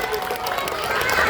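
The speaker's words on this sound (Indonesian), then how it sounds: "tepuk tangan dulu dong buat saya" Children in a school audience clap and cheer together, a busy patter of many small hands with crowd noise and some voices mixed in.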